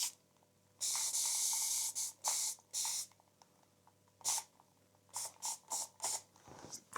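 Spray paint can hissing in a series of short bursts, first a long steady spray, then several quick puffs, close and fairly loud.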